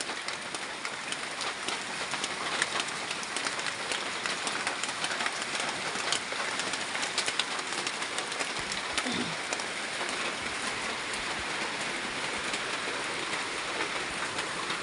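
Steady rain pours down continuously, a dense hiss of drops hitting surfaces that stays even throughout.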